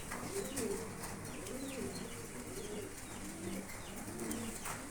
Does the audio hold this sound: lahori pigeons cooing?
yes